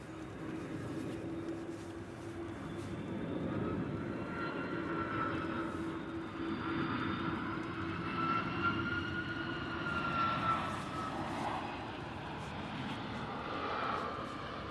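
An Emirates Airbus A380 touching down at Manchester Airport, a distant steady engine roar with slowly shifting whine tones that rises and falls gently across the landing roll, heard alone without speech.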